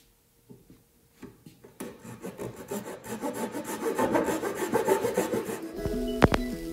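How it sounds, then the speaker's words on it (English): A small Japanese pull saw cuts a fine groove into wooden slats for a storage bin rack, rhythmic rasping strokes building from a few tentative scrapes into steady, close sawing, ending with a couple of sharp knocks. "I'm just going to use a nice uh, small Japanese saw to cut a fine groove there"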